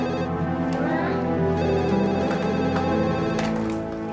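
A telephone rings with a melodic, tonal ringtone that plays steadily for about four seconds, fairly loud and near, in a home in the morning.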